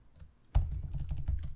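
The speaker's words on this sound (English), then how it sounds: "you can press the plus symbol and start typing" Keystrokes on a computer keyboard tap out a quick irregular run close to the mic, each press a soft clicky thud, starting after a brief near-silent pause and continuing steadily to the end.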